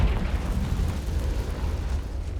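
A Confringo fire spell explodes in Hogwarts Legacy with a loud, sustained rumbling boom that fills the whole short moment and fades slightly toward the end.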